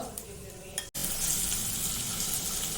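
Cumin seeds sizzle and crackle in hot oil in a kadhai over a gas flame, a steady dense fry. A brief stirring scrape comes just before the sizzle swells up loud and continuous.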